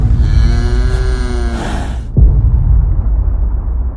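A cow in an AI-generated scene gives a loud, harmonic moo that lasts about two seconds and then breaks off. A sharp burst follows, and a dense, rumbling roar like fire fills the rest.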